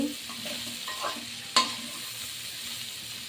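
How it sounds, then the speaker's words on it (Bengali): Shrimp and Malabar spinach fruit fry in a pan under a soft, steady sizzle. A spatula stirs and scrapes, and one sharp clack lands midway as the utensil strikes the pan. "এখন আমি আবারও ঢাকনা উঠিয়ে দিচ্ছি আর একটু নেড়ে চেড়ে দিচ্ছি।"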